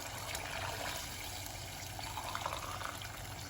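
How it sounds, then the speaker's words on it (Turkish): Hot water pours steadily into a pot of barley noodle soup, a continuous close splashing and trickling with no speech. "şimdi sıcak suyum var hazırda. suyumu ekliyorum."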